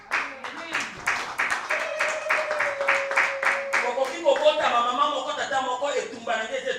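A church congregation claps together to acclaim the Lord, an even run of sharp rhythmic claps while a voice speaks and sings over them, then the clapping fades into the voices.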